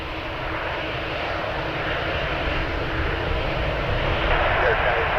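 Close to an Air Canada Boeing 787 Dreamliner at Toronto Pearson, a steady, broad jet engine roar holds evenly throughout, strong and near.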